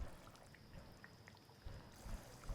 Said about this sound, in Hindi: भूनने के बाद यहाँ पर पानी डालेंगे 1 गिलास।